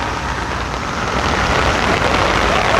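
Heavy rain pours down in a dense, continuous hiss, loud and close, with no pauses or voices.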